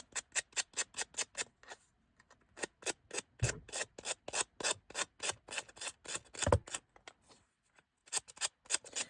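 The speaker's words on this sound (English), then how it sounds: "And the sanding really makes this go so much quicker." Rhythmic back-and-forth rasping of sanding on small wooden tag charms, close and fairly loud, in steady bursts of quick strokes with brief pauses between runs.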